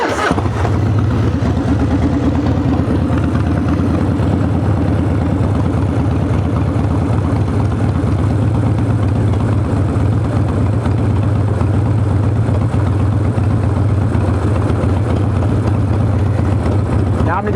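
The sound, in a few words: Harley engine running while tuning Lectron carburetor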